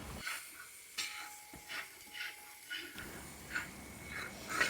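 Shallots fry in a pan and get stirred, a soft steady sizzle under repeated scraping strokes of a spoon against the pan. Several gentle stirs recur about every half second to second, fairly close and moderately quiet.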